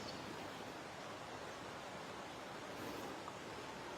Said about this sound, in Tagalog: Tapos ang naririnig lang yung ilog